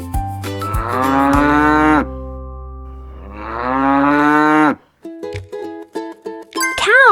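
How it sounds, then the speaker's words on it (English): Cattle mooing on a farm: two long, loud, drawn-out moos with a pause between them, followed by shorter clinks and chimes toward the end. "Cow"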